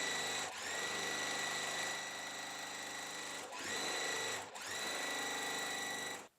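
Sewing machine piecing a quilt block, running in a steady, close whir of several long bursts with brief pauses between them.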